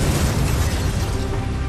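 A dense, roaring blast rumble from a meteor exploding in the atmosphere, loud and sustained through the whole short moment with no voices.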